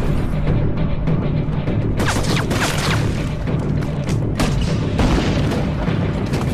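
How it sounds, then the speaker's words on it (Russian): In the Modern Warfare video game, AC-130 gunship fire hits barracks with loud, continuous booming explosions. The heavy blasts and crashing impacts roll over each other for several seconds. "Спектр 64, выстрелите по восточным баракам."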